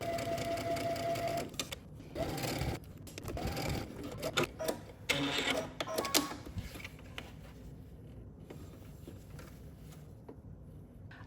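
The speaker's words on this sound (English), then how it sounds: "I'm gonna head to the sewing machine" A sewing machine stitches dress fabric in rapid mechanical bursts of several seconds each, separated by short pauses, then runs more quietly and sparsely toward the end, close and fairly loud with no talking.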